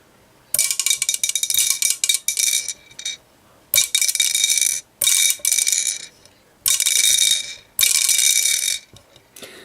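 Someone turns the rotor on an Akida Creature of Water spinning toy, giving bursts of fast ratcheting clicks: several close, fairly loud runs separated by short pauses, with no voice.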